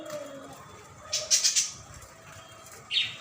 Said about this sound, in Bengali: এই পাখিগুলো খুব ভালো।